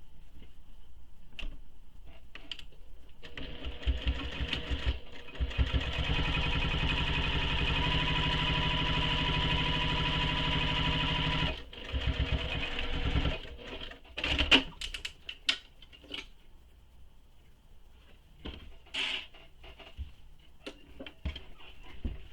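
A sewing machine runs steadily for several seconds while top stitching the upper edge of a tote bag, a continuous mechanical whir with faint ticking, followed by scattered handling clicks and rustles.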